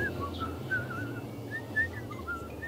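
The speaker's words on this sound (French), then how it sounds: "Non, Jean-Louis, ne siffle pas." A person whistles a wavering, meandering tune, moderately faint and alone over a low steady background hum.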